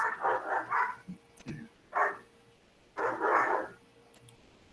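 A dog gives several loud, close barks in quick bursts, with a long pause and then another round of barking, in a quiet room with a faint background hum.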